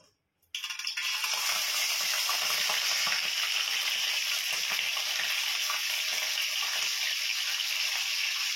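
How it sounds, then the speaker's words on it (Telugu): Chicken frying in hot oil in a pan, a loud, dense, continuous sizzle that starts abruptly after a brief quiet moment and holds steady throughout, close up and without talk. "మనమైతే చికెన్ని ఫ్రై చేసుకుంటున్నాం"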